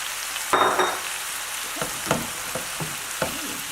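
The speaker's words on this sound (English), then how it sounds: "And put in your bean sprout." Tofu and bean sprouts stir-frying in a pan, an even sizzle broken by a burst as ingredients drop in, then several scraping tosses and stirs at close range.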